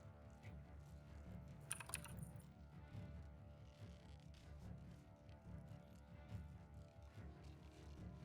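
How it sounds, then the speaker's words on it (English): Rapid typing on a computer keyboard, a steady stream of light clicks heard beneath a low background hum during an online tabletop role-playing session. "Man, somebody's typing quick."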